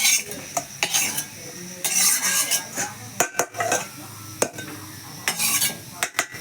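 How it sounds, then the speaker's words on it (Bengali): Scrambled egg is stirred and scooped from a pan. A utensil scrapes and clinks against the metal nearby in irregular bursts, with a faint sizzle underneath. "ডিমটা তুলে নেওয়া হচ্ছে।"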